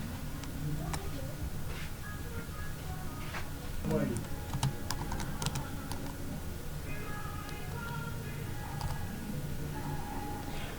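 Keys clatter steadily on a computer keyboard as text is typed into a Word document, a dense run of close clicks with short pauses, under background noise and talk throughout.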